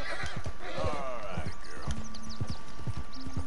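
A horse whinnies loudly over steady clip-clopping hooves in Red Dead Redemption 2, with game ambience and a voice speaking briefly.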